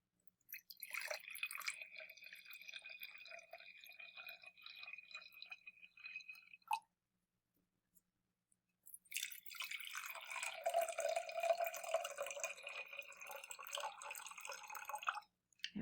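Water poured into two glasses for a walking-water science demonstration, heard as two separate close bursts of trickling and splashing liquid with a short silent gap between them.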